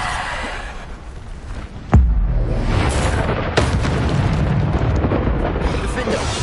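Bombarda spell blasts in a PS5 spell-combat game, two sudden booming explosions a moment apart over a continuous rumbling battle din, with voices calling out amid the fighting.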